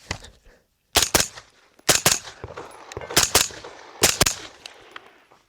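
An AR-style rifle fitted with a three-position super safety trigger fires in semi-auto mode, sharp loud shots coming in quick pairs about once a second, each crack ringing out briefly before the next.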